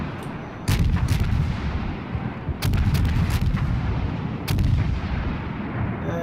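The Russian tier 3 cruiser Bogatyr fires its guns in World of Warships, three heavy booming salvos spaced a couple of seconds apart, each followed by a rumbling tail.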